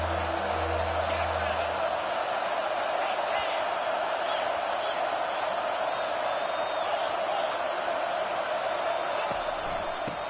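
Stadium crowd cheering in a college football video game, a steady broad roar that holds loud throughout with faint commentary-like voices underneath.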